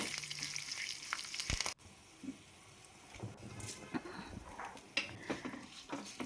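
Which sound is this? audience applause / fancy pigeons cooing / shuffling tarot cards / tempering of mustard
tempering of mustard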